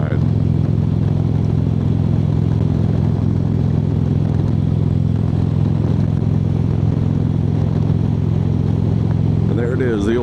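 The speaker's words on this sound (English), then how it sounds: "I love the sound of the exhaust." Motorcycle engine and exhaust drone steadily throughout a fall country ride, a loud continuous low rumble with wind noise and a brief shift near the end.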